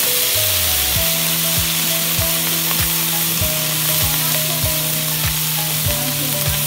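An ingredient fries in hot oil with a loud, dense, continuous sizzle, while a steady mechanical hum and regular low thumps run underneath, close by and with no voices.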